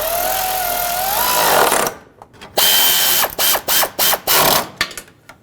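A ratchet tightens 10mm bolts on the radiator core support brackets of a 2013-2020 Nissan Pathfinder. A loud burst of rapid clicking is followed by a series of short, sharp ratcheting strokes close to the mic.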